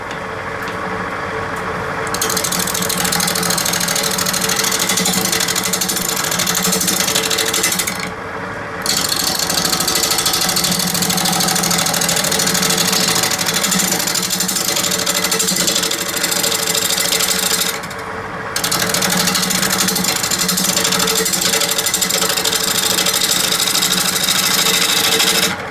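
A wood lathe spins a fat wood bowl at about 800 RPM, with a loud, steady scraping and whirring as the tool cuts, broken by two brief pauses.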